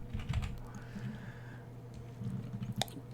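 Steady, close typing on a computer keyboard while editing in Vim mode inside Visual Studio Code: soft, quick keystrokes in a continuous patter, fairly quiet, with no talk over them.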